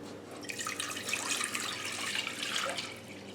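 Water splashes and trickles steadily into a container, a continuous bright pouring sound close by with small drips and gurgles.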